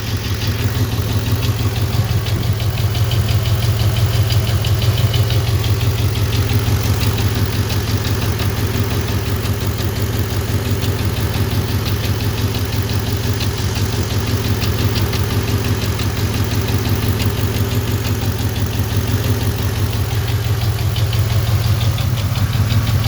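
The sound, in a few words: engine lifter ticking on cylinder number 4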